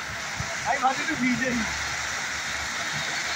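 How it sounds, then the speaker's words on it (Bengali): Heavy rain pours in a steady, even hiss during a night road trip through wind and lightning, with a voice briefly rising over it near the start. "প্রচুর বৃষ্টি হচ্ছে ভাই, প্রচুর বৃষ্টি"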